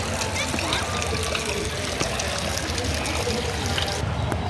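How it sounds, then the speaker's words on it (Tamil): Rainwater streams down a tree trunk in Victoria Park, Nuwara Eliya, Sri Lanka, giving a continuous close trickling and splashing wash with a steady level throughout and a voice talking faintly beneath it. "சமலை, தண்ணியெல்லாம் இந்த ட்ரீயில் ஓட்டிகிட்ருக்கு."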